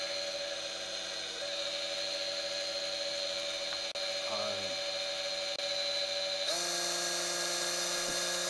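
A small electric motor on a homemade tool post grinder spins at about 5000 RPM, giving a steady high whine that holds level throughout and steps up to a brighter, stronger pitch near the end.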